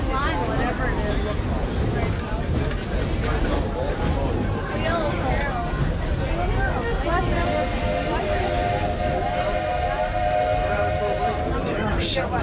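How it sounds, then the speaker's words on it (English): A Walt Disney World Railroad steam train at Magic Kingdom rumbles along steadily with rhythmic chugging, crowd chatter mixed in, and a sustained whistle-like tone rising near the end. "There are some who say that this steam train is a little old-fashioned"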